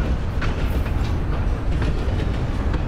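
A train rolls past in the Red Dead Redemption video game, a loud, steady rumble of wheels and cars with a faint rhythmic clatter and no talking.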